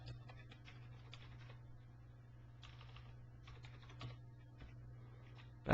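Typing an SQL query on a computer keyboard in SQL Server Management Studio: a steady stream of faint, light key clicks over a constant low hum, with no talking.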